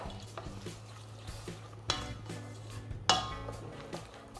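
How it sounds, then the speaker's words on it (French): Sunflower oil being stirred into melted chocolate for a chocolate coffee tart glaze, with a steady soft scraping of utensil against bowl and a couple of sharper clinks, close and alone. "Je verse l'huile de tournesol dans le chocolat, puis je mélange."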